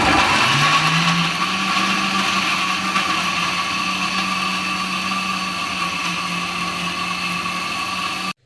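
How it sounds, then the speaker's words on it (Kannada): A kitchen mixer grinder blending coriander, garlic and tomato into a smooth paste. One steady, loud motor whir runs almost without a break and then cuts off sharply at the end. No one speaks. "ಕೊತ್ತಂಬರಿ, ಬೆಳ್ಳುಳ್ಳಿ ಮತ್ತು ಟೊಮೊಟೊವನ್ನು ನೀಟಾಗಿ ಹಾಕ್ಕೊಂಡು ಎಲ್ಲ ಚಿಕ್ಕದಾಗಿ ನುಣ್ಣಗಾಗೋ ಥರ ರುಬ್ಕೊಳ್ಳೋಣ ಮಿಕ್ಸಿ ಒಳಗಡೆ"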